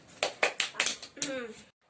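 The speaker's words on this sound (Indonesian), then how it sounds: "Oke, tepuk tangan untuk kita semua." Classroom applause from a group of students, with several quick bursts of clapping over about a second and a half, then a sudden stop into silence; a voice speaks briefly near the end.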